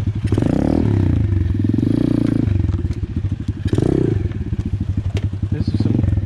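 Apollo RFZ Chinese dirt pit bike engine running in thorny brush, its small single-cylinder buzz steady and close with rhythmic pulsing, swells of revving, and scraping, clattering thumps of the bike tangled against a tree.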